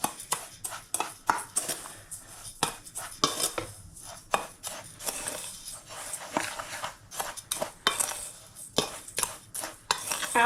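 Seasoned cornflake mix for air-fryer halloumi fries being stirred in a bowl, a run of sharp crunchy scrapes and clinks in an uneven rhythm, close and alone with no talk.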